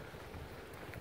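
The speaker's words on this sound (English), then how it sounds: "Ooh, it's windy." Wind buffets the microphone outdoors on a rainy day, a steady close rumble of low gusting noise that fills the short moment with no talk.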